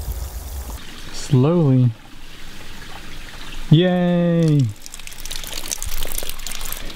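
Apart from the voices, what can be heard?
water flowing down a rubber-lined flume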